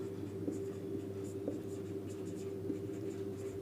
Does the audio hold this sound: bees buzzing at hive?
no